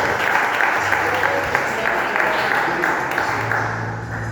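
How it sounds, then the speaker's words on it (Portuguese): Loud, sustained applause fills a church, dense rhythmic clapping from the congregation with a voice speaking over it throughout. "Receba o servo do Senhor com palmas bem forte"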